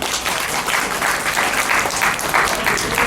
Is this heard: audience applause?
yes